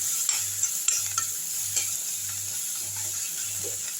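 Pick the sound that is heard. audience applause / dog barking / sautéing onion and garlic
sautéing onion and garlic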